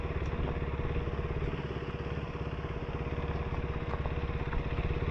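A KTM Duke 390 single-cylinder motorcycle engine runs steadily at a close, even idle-like pulse for the whole stretch, with no voices over it, during monsoon off-road riding.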